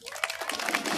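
Crowd applause at a Mexican public inauguration ceremony for a new avenue, honoring the company Unilever; a broad wash of clapping from many hands fills the space at moderate loudness, steady throughout.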